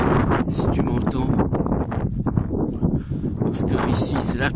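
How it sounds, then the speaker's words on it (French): Strong Atlantic coastal wind buffeting the microphone at a lighthouse on the cliffs at Sagres, loud rumbling gusts throughout with someone talking over them. "parce que ici c'est l'Atlantique, il y a le vent"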